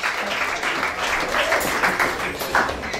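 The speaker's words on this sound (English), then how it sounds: "Please give a hand to Basil, the guitarist, and to Jane as well" A crowd applauds steadily, dense clapping that stays even and loud throughout.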